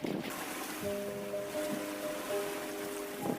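A boat engine hums steadily with a faint tonal drone as the boat speeds away over ocean waves, partly masked by a wash of water and wind noise, fairly quiet and distant.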